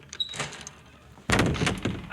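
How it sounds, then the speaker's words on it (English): A door at an office opens in a radio drama sound effect: a faint creak and shuffle at first, then a louder burst of handling and movement near the end, close and brief. "Then someone came to the door."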